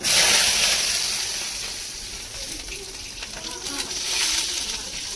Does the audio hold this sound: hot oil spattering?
yes